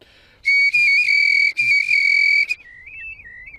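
Shrill decoy whistle blown for golden plover fowling, two loud, sustained piercing blasts close by, followed by a softer wavering whistle trailing off.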